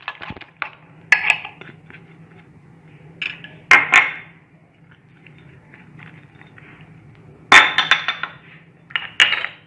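Two eggs are beaten with other ingredients in a bowl for bread pizza, giving intermittent bursts of clinking utensil strikes against the bowl between quieter pauses.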